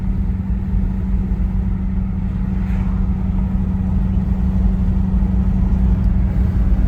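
Steady low engine and road hum fills the cabin of a 1991 Mercury Grand Marquis cruising at about 55 to 60 mph. The drone stays smooth and continuous, with no voices.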